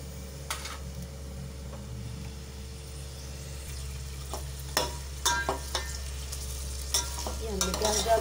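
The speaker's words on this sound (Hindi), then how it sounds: "तो लहसुन का पेस्ट तो हमारा गर्म हो गया है इसमें मैं प्याज डाल दूँगी" Onions hit hot garlic paste in a pan for maash daal and sizzle softly under a steady low hum, with a few sharp clicks and stirring scrapes growing busier toward the end.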